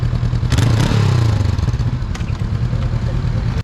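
A Honda CB500F motorcycle engine revs hard in a quick loud burst near the start, then drops back to a rough, steady idle close by.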